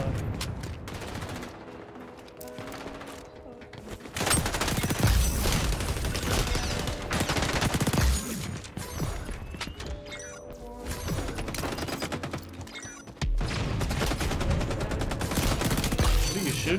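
Video game gunfire rattles in rapid, sustained bursts of fast automatic shots, with a few short pauses between volleys. Heavy impacts and crashes mix in, and a player's voice can be heard under the shooting.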